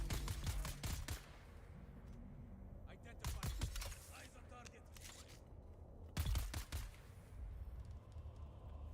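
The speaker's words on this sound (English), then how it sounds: "Gonna try out the gun again." Gunfire from a weapon in the video game Dune Awakening comes in three separate sharp bursts, spread out between stretches of quieter game ambience, with someone talking over parts of it.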